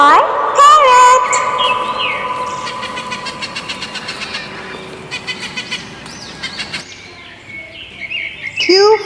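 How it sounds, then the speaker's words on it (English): A parrot gives a run of loud, repeated chirps, squawks and whistled calls, close and bright over a faint background hum, with a sharper call at the end. "P for parrot."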